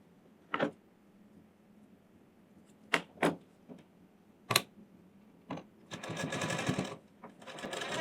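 A tailor's sewing machine stitches a Sabyasachi-style blouse in short separate bursts, then runs in a longer continuous whir near the end, close and clear.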